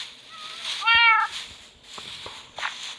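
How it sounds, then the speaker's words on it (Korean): A single clear cat meow from the video game Minecraft rings out, followed by a few soft clicks and faint background sounds, with no speech. "고양이 소리 너무 많이 들리는데."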